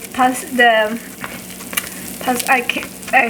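A ground beef quesadilla sizzles loudly in a pan right after being flipped, with a close, bright crackle broken by short tonal squeaks.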